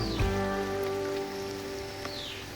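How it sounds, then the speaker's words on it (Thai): Rain falls outdoors beside a shrimp pond, a steady, close hiss of drops on surfaces with no voices over it. "ฝนก็เริ่มตกลงมาอีกแล้วนะครับ จากที่เมื่อกี้หยุดไปแล้ว นะครับ"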